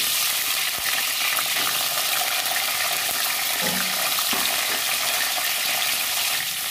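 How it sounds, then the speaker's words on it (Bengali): Peas frying in hot oil, a constant crackling sizzle with a few faint clinks of stirring partway through, close and even in level. "কলাইগুলো ভেজে নেব।"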